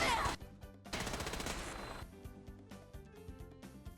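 A Gatling gun fires in Fallout 4 with a fast, loud stream of rapid shots in the first two seconds, then trails off into quieter game sounds and music.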